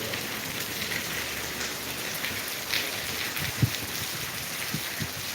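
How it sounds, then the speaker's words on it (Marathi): Continuous monsoon rain falls in Latur under a red alert, a steady even hiss of drops on surfaces with a few closer taps and splashes standing out, no voices. "काय कंटिन्यू पाऊस चालू आहे"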